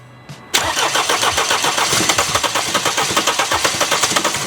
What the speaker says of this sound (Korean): 이렇게 걸리듯 하면서 시동이 안 걸립니다